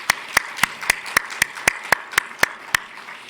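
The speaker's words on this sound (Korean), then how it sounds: "하나님 아버지께 다시 한번 감사의 박수를 올리겠습니다" A church congregation at a Sunday morning worship service claps in unison, sharp, evenly spaced claps about four per second that ring in a reverberant room.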